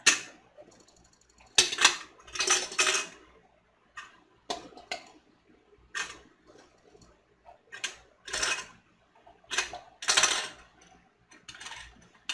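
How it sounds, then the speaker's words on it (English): Fresh sweet corn kernels scooped into canning jars, giving a series of short, crisp clinking and rattling bursts at irregular intervals with quiet gaps between, close and moderately loud. "all I do is I just scoop my fresh corn into the jar"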